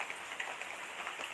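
Steady rain falls and patters on a surface throughout, a constant soft hiss with scattered drop taps and no voices.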